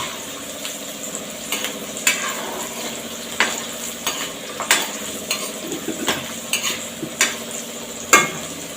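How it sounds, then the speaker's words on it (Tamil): Garlic frying in oil for milagu kulambu, a steady sizzle broken by regular sharp scrapes and clinks of a spoon stirring the pan, close and moderately loud. "அதனால் எண்ணெயில் நல்லா செவக்க"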